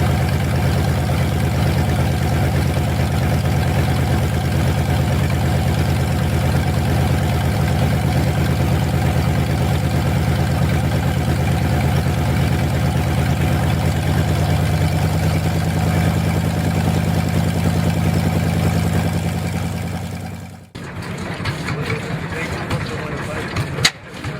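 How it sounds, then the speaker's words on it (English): A 9-cylinder, 330-horsepower Siddeley radial aircraft engine runs for a crowd of onlookers, a loud, steady low rumbling drone that suddenly cuts off near the end, leaving a rougher, quieter sound. "Siddeley Radial engine, packing 9 cylinders and 330 horsepower, fired up for a crowd of onlookers"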